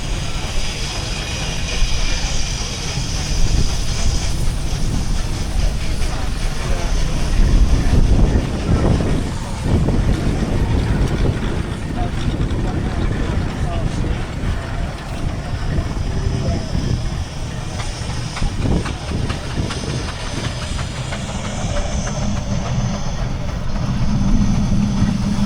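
Steam traction engines parading into the arena at the Weald of Kent steam rally, a loud continuous low rumble of engines with heavy wind buffeting on the microphone and people talking throughout.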